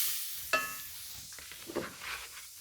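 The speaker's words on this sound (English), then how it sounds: "Onions into hot roux. Onions are sauteing in there." Yellow onions drop into a hot brown roux for Cajun roux peas and begin to sauté. A sharp splash is followed by a soft, low sizzle with scattered faint stirring sounds.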